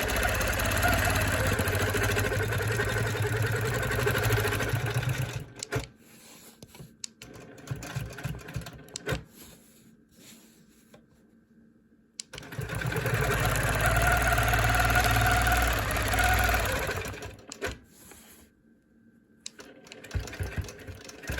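A sewing machine runs in two long bursts of rapid, steady stitching while ruler work is done on a vintage quilt block, with quiet gaps of handling and repositioning between the runs.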